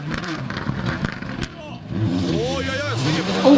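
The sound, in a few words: rally car driving past at Royal Rally of Scandinavia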